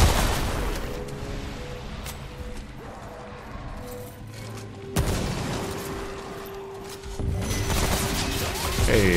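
A Gatling gunner enemy in Remnant: From the Ashes rattles off mechanical gunfire among booms and ratcheting clanks, building to a loud, dense barrage in the final seconds.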